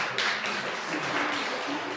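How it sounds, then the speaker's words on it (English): Audience applause at a Ukrainian medical conference, a steady broadband wash of many hands clapping that fills the whole stretch at even loudness, with no voices standing out. "Colleagues, a big round of applause"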